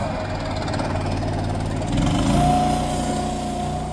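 A non-electric lifting device runs with a steady mechanical drone, close and continuous, with a slight rise in pitch midway.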